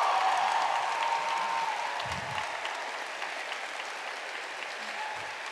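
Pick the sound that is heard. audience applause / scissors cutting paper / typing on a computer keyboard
audience applause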